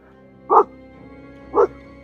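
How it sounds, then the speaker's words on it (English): A dog gives two sharp single barks about a second apart, close by, over a quiet low hum. "Now what are you barking at?"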